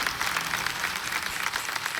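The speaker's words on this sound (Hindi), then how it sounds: "एक बार फिर तालियों के साथ हम आपका अभिनंदन करते हैं" A studio audience on a TV quiz show claps for a contestant who is leaving the game, producing a dense, steady applause that holds at an even level throughout.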